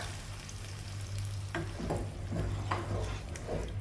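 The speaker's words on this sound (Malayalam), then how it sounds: "ഈ സമയത്ത് എഗ്ഗ് ബീറ്റ് ചെയ്തത് ഒഴിച്ചു കൊടുക്കുക" Beaten egg poured into a masala in a pan for egg tawa pulao and scrambled, a low steady sizzle with a few scraping stirs of a spoon, soft and close.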